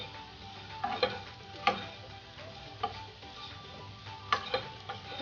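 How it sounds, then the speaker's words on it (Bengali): Black pepper powder being stirred into cumin potatoes frying in a pan, with a steady soft sizzle and a few sharp scraping clicks of the spoon against the pan, close and moderately quiet. "গোলমরিচের গুঁড়োটা দিয়ে ভালোভাবে মিশিয়ে নিয়েছি"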